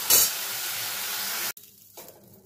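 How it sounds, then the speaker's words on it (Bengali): Shrimp fry in hot mustard oil in a wok with a strong steady sizzle that cuts off abruptly, leaving quiet, faint hissing. "দেখুন আমার চিংড়ি মাছটা হালকা করে ভাজা হয়ে গেছে।"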